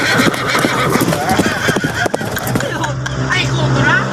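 A horse neighs loudly and repeatedly up close, its whinnies rising and falling over clip-clopping hooves, with people talking in the background throughout.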